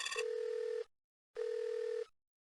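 Telephone tones sound in the Disney video game Nightmare Ned as a number is dialed, heard as two steady electronic tone bursts of less than a second each with a silent gap between them.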